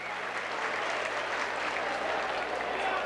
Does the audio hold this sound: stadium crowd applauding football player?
yes